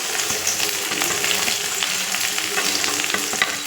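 Onion fries in hot oil for a bitter gourd dish, making a bright, close, steady crackling sizzle with frequent small scrapes of stirring throughout.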